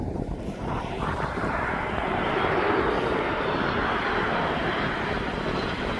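Ryanair airliner departing East Midlands Airport for Alicante, a broad steady engine roar heard from a distance, continuous and moderately loud with wind buffeting the microphone.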